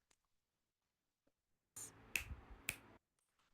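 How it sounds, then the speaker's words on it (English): Two sharp finger snaps, about half a second apart, ring out close and clear over a soft rustle, standing in for a snare hit. "I would just maybe snap my fingers"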